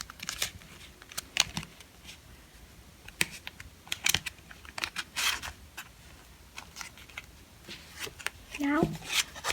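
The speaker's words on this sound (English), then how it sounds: "Then I'm going to fold this side in and the same on the other side." Paper being folded by hand into an origami piano, with a string of crisp, short crinkles and creases close by, scattered irregularly through the quiet.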